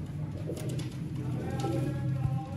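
Low, soft pigeon cooing repeats in a steady murmur close by, with faint rustling and a light high chirp over it.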